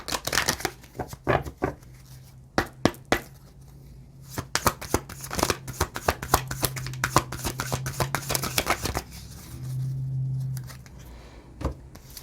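A card drawn from a deck of oracle-style "I am" cards, with crisp snaps and slides of card stock in quick irregular bursts, close and fairly loud, followed by a short low hum.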